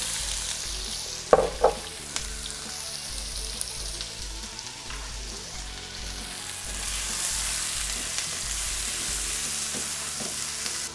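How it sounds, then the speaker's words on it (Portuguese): Onion sautéing in sun-dried tomato oil makes a continuous soft sizzle, with a couple of utensil clinks and stirring scrapes early on and the frying hiss swelling slightly toward the end. "Vamos saltear a cebola até ela ficar suada, douradinha"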